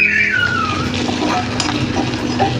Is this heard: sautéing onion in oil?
yes